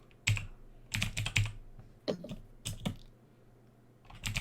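Quick bursts of mechanical typewriter key clacks in short irregular clusters, fairly close and crisp, with quiet pauses between flurries.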